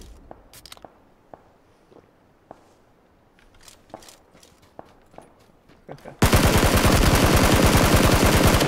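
Gunfire in the battle royale game PUBG: scattered single shots and short bursts at varying distances, then a sudden loud, dense stretch of rapid close automatic fire through the final seconds.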